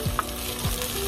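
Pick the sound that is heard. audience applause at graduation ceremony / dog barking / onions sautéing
onions sautéing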